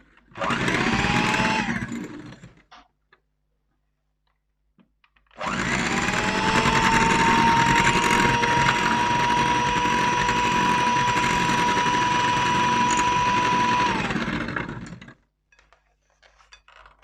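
Two bursts of a steady electric hand mixer motor whine, whisking eggs until foamy, a short one then a longer run of about ten seconds, with a constant high-pitched hum.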